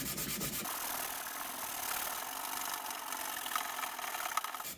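Steady, continuous scrubbing and rubbing as paint is cleaned off a motorcycle top box, a dense rasping texture heard close up without pause, with no voices.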